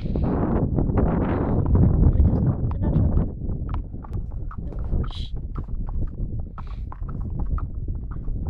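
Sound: horse hooves clip-clopping as a rider enters

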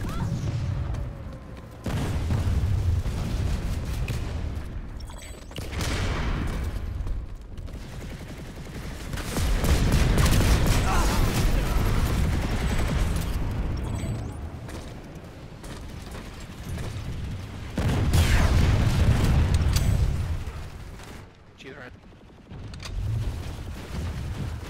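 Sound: grenade explosions and gunfire in a video game

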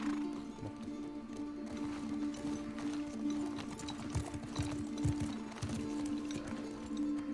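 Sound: horse hooves in video game The Last of Us Part II

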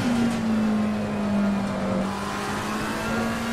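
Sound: sim racing car accelerating out of a corner, video game

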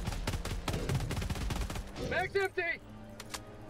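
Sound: weapon firing at enemy in video game Helldivers 2

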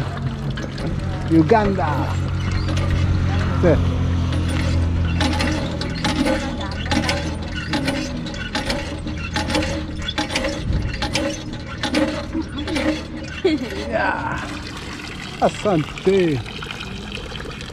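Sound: filling a bottle with water

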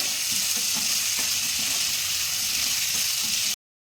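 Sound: onions frying for mutton curry

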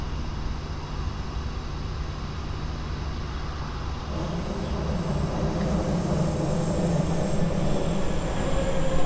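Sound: train wheels squealing in video game Train Sim World 4

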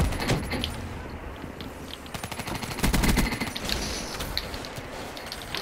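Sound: gunfire in the video game Call of Duty: Black Ops III

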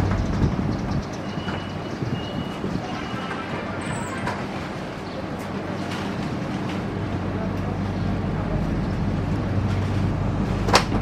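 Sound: Argo Bromo Anggrek express train departing from Cirebon Kejaksaan

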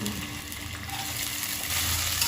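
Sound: cashews and raisins frying in ghee

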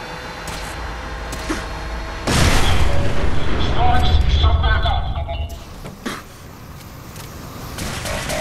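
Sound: explosions and gunfire in the video game Fallout 4

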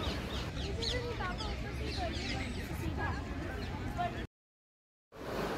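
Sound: birds singing in Nishat Garden, Kashmir

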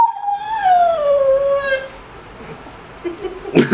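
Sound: dog howling

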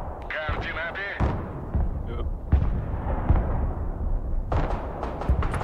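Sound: artillery fire in the video game Broken Arrow

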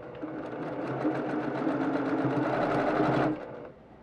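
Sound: sewing machine chain piecing log cabin quilt blocks

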